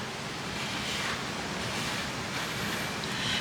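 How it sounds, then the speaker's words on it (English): Strong, steady wind blows outdoors, a dense rushing roar that buffets the microphone throughout with slight gusty swells and no pauses. "it's really windy right now"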